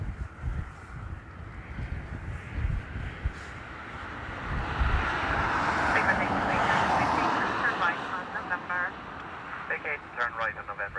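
A Ryanair airliner arriving from Krakow lands in a crosswind at Dublin Airport, its broad engine roar swelling over several seconds then easing, heard through gusty wind noise on the microphone with a voice talking over it.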